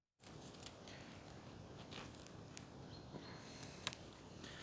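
Pruning shears cutting a plant stem evenly in spring on a homestead, heard as a few faint, crisp snips over a quiet outdoor hiss.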